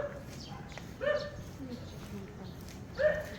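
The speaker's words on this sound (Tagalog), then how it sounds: "Ang laki ng aso." A large dog barks a couple of times at moderate distance, short sharp woofs spaced about two seconds apart over steady outdoor background noise on a residential street in the Philippines.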